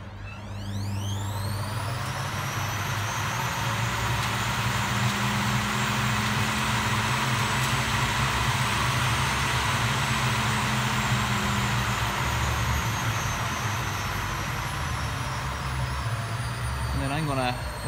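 A hotwired Fagor washing machine with its ballasts removed spins up into a loud, continuous whirring drone with a whining tone that climbs and holds steady, close and filling the whole stretch.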